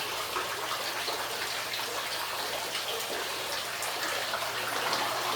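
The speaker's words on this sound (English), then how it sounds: "We also have another room of waterfalls." Floodwater pours down the walls of a basement in an Indianapolis home, making a steady, close, splashing rush that continues without a break.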